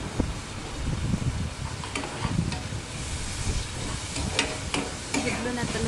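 Turmeric being stirred into a frying egg curry in a pan, with a steady oil sizzle and repeated scraping stir strokes close by.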